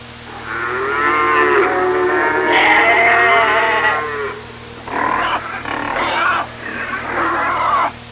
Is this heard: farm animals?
yes